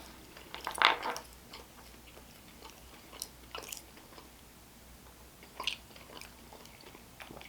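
Someone bites and chews a strawberry cheesecake snack up close, with a crisp bite near the start, then soft intermittent chewing and a second crunchy bite later, quiet and without talk.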